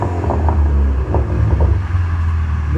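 Engine of a 2014 Volkswagen Mk6 GTI fitted with a blow-off valve, revving up in a steady deep rumble with a couple of throttle blips, loud and close.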